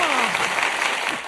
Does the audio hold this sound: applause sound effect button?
yes